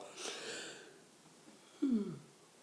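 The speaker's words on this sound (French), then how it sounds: "Désolé, je baille un peu." A close yawn: a long, breathy intake of air that ends in a short, low voiced groan, then quiet.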